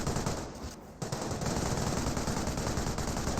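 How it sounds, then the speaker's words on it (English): Sustained machine-gun fire from two Bren carriers trading bursts with an MG42 in a Company of Heroes battle, a dense continuous rattle with a brief dip near the start, no voices. "Two Bren carriers firing away against the MG42"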